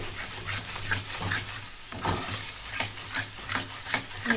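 Potatoes with whisked yogurt and spices sauté in a pan, a muted sizzle broken by repeated rhythmic scraping strokes of a spoon stirring, close and moderately loud, with no voices.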